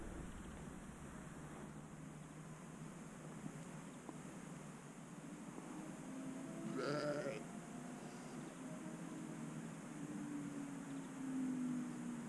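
A flock of sheep bleats in an open outdoor setting, with a few distinct calls at moderate distance over steady wind and background noise.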